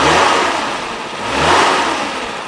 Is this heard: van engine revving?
yes